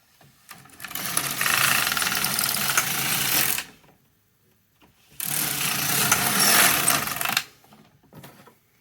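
A knitting machine carriage runs across rows of a knitted bag, making two loud, sustained whirring and clacking passes, each about three seconds long, separated by a brief quiet gap.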